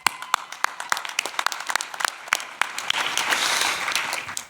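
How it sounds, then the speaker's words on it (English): Audience applause at a regional manager of the year awards event: scattered individual claps at first, building into denser, steady clapping from a moderately sized crowd, no talk over it. "give them a round of applause"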